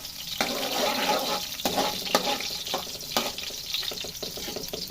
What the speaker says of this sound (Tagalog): Igigisa lang natin yung garlic natin hanggang sa mag-slightly brown siya